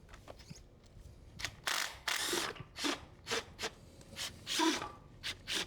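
An impact wrench is tried on a strut nut of a Chevrolet Sonic during a coilover install, heard as a series of short, fairly quiet bursts with brief pauses between them, close by and without speech.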